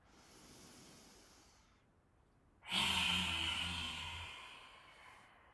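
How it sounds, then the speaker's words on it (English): A person lying face down on a mat lets out a long, forceful breath through an open throat with the tongue out. The exhale starts abruptly as a loud, breathy rush and fades slowly, with only quieter breathing before it. "just stick your tongue out as you exhale and let all of the air come out through an open throat"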